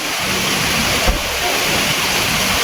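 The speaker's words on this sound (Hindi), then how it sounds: "ये देखो बारिश का हाल हो रहा है हमारे यहाँ पे।" Heavy rain pours down outside a house, a loud, steady, close roar of falling water with no letup.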